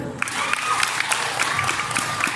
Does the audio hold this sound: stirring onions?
no